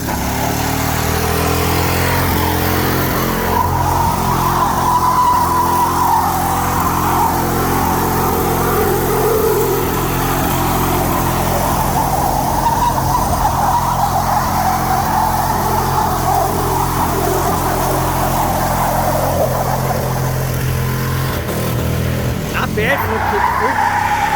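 A Ford F-150 4x4 pickup drives hard and skids, a loud sustained engine roar with a rising and falling whine and tire scrubbing over nearly half a minute, ending in a sharp burst near the close.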